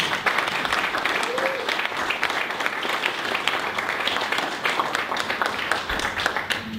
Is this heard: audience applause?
yes